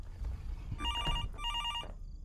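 Telephone ringing in the horror video game Fears to Fathom, two quiet electronic ring bursts separated by a short gap, heard alone at low level.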